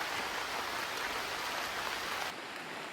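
Heavy rain pouring through a forest during a monsoon trek, a dense steady hiss of drops with no voices, easing slightly toward the end.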